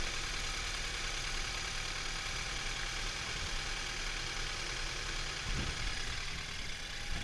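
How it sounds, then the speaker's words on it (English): A 2013 BMW 328xi engine idles on a cold start, a steady, rough, broadband drone with a faint ticking character, running alone without talk. "Some say that BMW engines most of the time sounds rough on a cold start."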